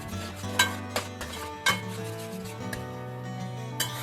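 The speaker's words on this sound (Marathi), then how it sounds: "दोन तीन मिनिट असाच भाजून घ्यायचा आहे" Egg curry masala roasts in a pan over medium heat: a faint, soft sizzle beneath a few distinct clinks and scrapes of a spoon against the pan, with no talking.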